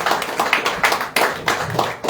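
Church congregation at a revival service clapping for the pastor, rhythmic claps in even beats about twice a second, close and fairly loud, with no talk over them.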